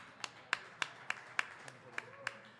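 A small live audience at a Nashville comedy and music round claps for a performer, about eight sparse, distinct claps spread over a couple of seconds, fairly faint and close.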